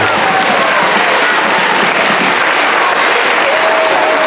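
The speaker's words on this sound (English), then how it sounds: "a big round of applause for our Panther Parent Group also" An audience at a school program gives loud, sustained applause, a dense wash of many hands clapping that holds steady throughout, with faint crowd murmur mixed in.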